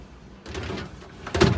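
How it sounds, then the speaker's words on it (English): Another small refrigerator drawer glides open with a low sliding rumble and ends in a louder knock as it reaches its stop. It is close by and nobody speaks. "Another little drawer, which I would want this to be separated. It glides out pretty easy."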